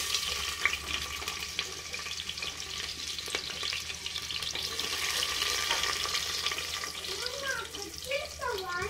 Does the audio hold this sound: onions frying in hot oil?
yes